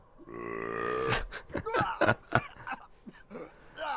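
A yak in the game Tales of Berseria lets out a long, deep, drawn-out burp, followed by a string of guttural grunting and hacking bursts. The sound is close and stands alone.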